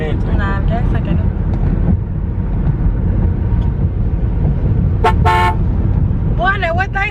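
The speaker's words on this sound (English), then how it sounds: "now what they honking for?" Car horns honk from a vehicle on the road: brief blasts around the five-second mark and a few more near the end, loud over steady engine and road noise, with people talking in the car throughout.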